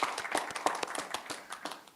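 A modest audience at a Tokyo open-data hackathon demo day applauds a presenting team, sparse, distinct hand claps at an irregular pace, fairly quiet and thinning toward the end.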